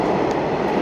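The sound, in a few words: metro train ride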